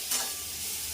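Bitter gourd sizzles steadily in a hot pan on its own, a short burst of bright, close frying with a brief stir at the start.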